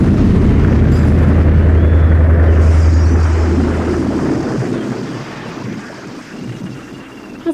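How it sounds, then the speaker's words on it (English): A blowtorch ignites with a loud, rushing roar that holds steady for a few seconds, then gradually fades to a softer hiss, with no talking. "I'm going to start the blowtorch"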